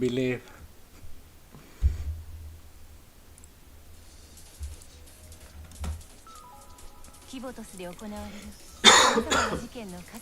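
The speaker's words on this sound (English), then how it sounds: "I have this annoying cough, but it's just a cough." One person has a cough: a few short coughs and throat clearing, close to the microphone, scattered among quiet clicks and brief bursts of speech.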